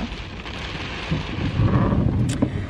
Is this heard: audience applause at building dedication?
no